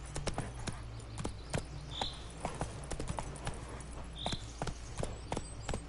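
Horse hooves clip-clopping in a steady walking-to-trotting rhythm, Geralt's horse Roach in the video game The Witcher 3, with hoofbeats sharp and close over a low ambient hum and no talking.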